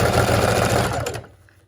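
A sewing machine back stitches to hold a ribbon in place on a fabric cover for a junk journal, running in one fast, steady burst that stops abruptly after about a second.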